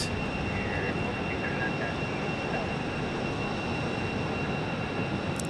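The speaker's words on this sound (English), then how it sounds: "This is our MAX 8 from St. Louis." A Boeing 737 MAX 8 airliner arriving from St. Louis at Phoenix airport gives a steady, broadband engine roar that holds evenly throughout, with a faint voice now and then.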